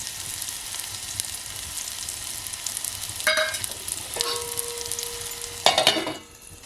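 Crushed garlic and onion fry in hot oil over a wood-fired village stove, a bright continuous sizzle with a few sudden flare-ups and utensil clinks near the end.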